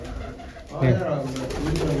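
A large pigeon, one of a breeder's prized birds, gives a short, low coo close by while someone talks over it.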